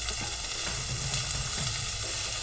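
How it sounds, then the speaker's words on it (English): Onions and spring onions sizzle loudly in a hot pan over a high flame while being tossed, a dense, steady frying hiss with soft stirring scrapes throughout and no voices. "Now I'm going to add regular onion and spring onions. Give a nice toss."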